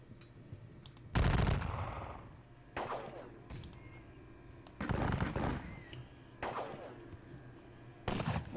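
Musket volleys crack out in a Napoleonic-era Salamanca battle game, several separate loud, ragged bursts of gunfire spaced a second or two apart, each trailing off into rumbling echo.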